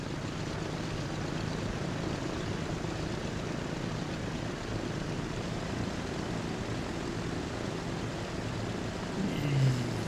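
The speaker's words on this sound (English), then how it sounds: "There's our plane going the other way." Propeller airplane flying past in Transport Fever 2, a steady broadband engine drone holding throughout with a brief swell near the end, no talk over it.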